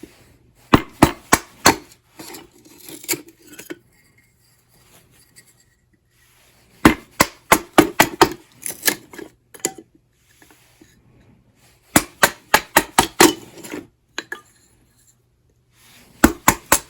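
Kindling being split with a baton struck into a homemade wooden splitter, sharp loud woody cracks in quick bursts of several blows separated by pauses.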